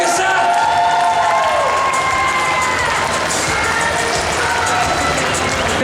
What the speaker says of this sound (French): Applaudissez-les encore plus fort que ça.